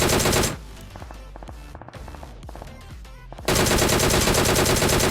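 Automatic gunfire in a shooter video game comes in loud, dense bursts at the start and the end, with quieter scattered shots and thuds between them.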